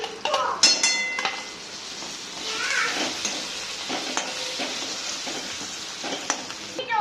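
Potato bhaji filling of turmeric, green chilies and garlic fries in a pan, with sizzling and spoon scrapes and clinks against the cookware coming in irregular bursts at close range.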